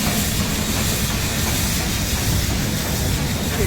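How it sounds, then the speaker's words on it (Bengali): An old Brienz Rothorn Railway steam engine train in the Swiss Bernese Oberland gives off a steady, loud, broadband roar and hiss with a heavy low rumble underneath, unbroken throughout and with no voices. "এই যে স্টিম ইঞ্জিন ট্রেন, এই যে এটাতে করে আমরা যাবো এবার।"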